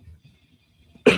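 A single sharp cough bursts out near the end after a near-silent stretch with only faint low murmuring.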